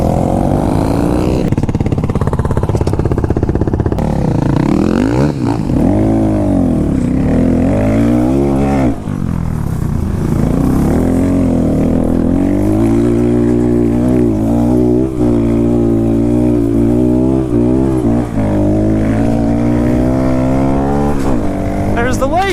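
A Honda Grom small motorcycle engine works hard during a ride, its loud, close drone rising and falling in pitch with repeated revs and gear changes throughout.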